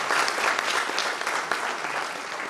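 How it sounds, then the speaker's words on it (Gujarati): At a book launch, an indoor audience claps warmly for a moment, the applause dense and loud at first and then easing slightly, with no voices over it. "રિંકુબેન માટે એકવાર ખૂબ તાળીઓ થવી"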